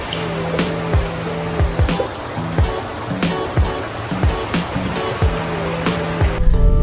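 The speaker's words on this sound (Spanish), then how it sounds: "solo el viento y el agua" Wind and water flowing along a river in a quiet natural park, a steady broad rush with gusty bursts and some handling knocks close to the microphone.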